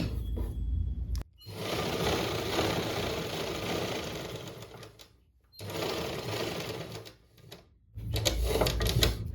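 A sewing machine stitches an L-shaped seam on a pant pocket in three loud bursts of rapid, close whirring, each separated by a brief pause.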